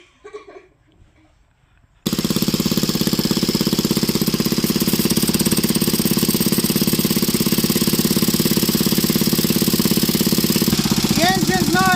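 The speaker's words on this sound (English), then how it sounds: "The engine's not happy" An old engine on a Bolens Husky 800 garden tractor, revived after being parked 14 years, runs roughly and unevenly. After a quiet start it kicks in loud with a rapid, rattling, pulsing chug that continues steadily up close.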